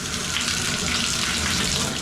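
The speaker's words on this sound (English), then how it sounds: "when I turn on the water here and pick this up so that the water gets diverted up to the shower" Water gushes steadily from a bathtub spout, a dense, even hiss and splash close by, running without pause.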